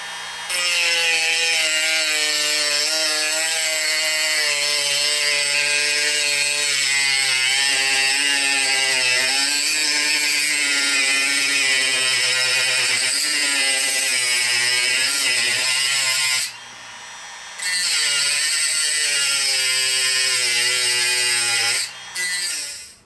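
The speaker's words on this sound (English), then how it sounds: "we're just going to continue and use this cutting disc to cut the hinge apart" A cutting disc slices through a metal hinge with a loud, continuous, steady whine and grinding rasp that keeps going almost without a break, dipping briefly twice near the end.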